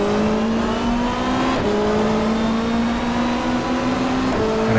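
A race car engine in the GTR2 sim racing game, a 1995 Super Touring car at Mallala, drones loudly and steadily, with a sharp blip and pitch shift around the middle as it drops down toward first gear.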